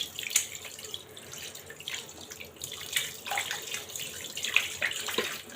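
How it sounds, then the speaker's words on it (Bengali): Tap water runs steadily into a kitchen sink while hands are washed, with soft splashing and small shifts in flow, close and moderately loud, with no voices. "একটু হাত ধুয়ে পানি দিব।"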